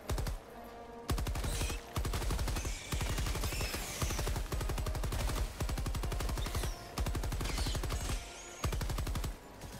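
Rapid automatic gunfire from a rifle in a bug-fighting shooter video game, loud sustained bursts of dense repeated shots separated by brief pauses, with no talking.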